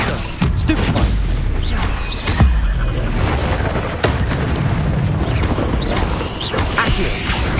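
Heavy booming spell blasts from Confringo in the Hogwarts Legacy video game, repeated loud explosive thuds and crashes layered over continuous combat effects, close and intense throughout.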